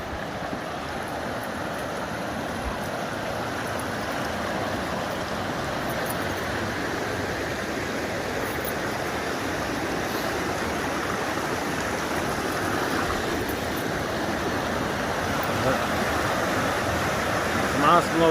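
Roaring creek water rushing over large, heavy boulders, a steady broadband wash that stays loud and continuous throughout with no break.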